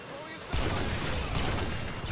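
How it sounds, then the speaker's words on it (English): An anti-vehicle gun fires in a video game, a sudden loud booming blast that cuts in after half a second of quieter background and rumbles on densely until the end. "This is an anti-vehicle gun."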